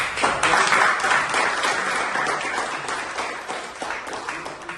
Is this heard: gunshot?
no